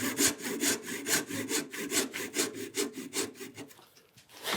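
A hand saw cuts into a very short wooden stick during stool making, a close run of about a dozen quick, even rasping push-pull strokes that slow and soften near the end.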